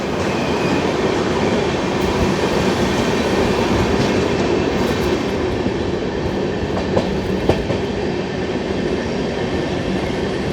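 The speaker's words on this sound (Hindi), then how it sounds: "कोई ट्रेन से क्रॉसिंग हो रही है।" A train runs on rails with a loud, continuous rumble and faint clickety-clack of wheels, with a few sharper clanks near the end as another train passes alongside.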